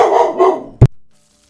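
A single sharp dog bark rings out close by after a stretch of other broad noise, followed by quiet with a faint trailing sound.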